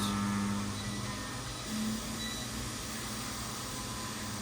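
A vacuum pump runs with a steady mechanical hum, constant low drone and faint broadband noise, evenly throughout, nearby.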